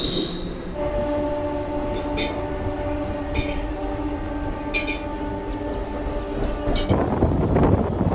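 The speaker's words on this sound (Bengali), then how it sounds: "সাঁতরাগাছি থেকে আমাদের ট্রেন ছাড়লো প্রায় 7টা 15-তে" A Howrah–Digha line local train pulls away from the station, with steady rumbling wagons, sustained wheel squeal and tonal rail hum running throughout, and several sharp clanks along the way.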